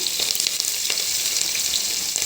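Sliced onion and green chillies frying in oil in a pan, giving a loud, continuous close sizzle with crackling pops throughout and no voices.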